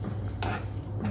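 Tomatoes added to frozen spinach fry in a pan, making a short, close, steady sizzle with a couple of brief stirring scrapes and no speech.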